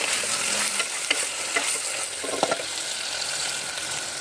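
Bitter gourd curry fries in a pan, a steady close sizzle broken by a few scraping stirs of the spoon against the metal.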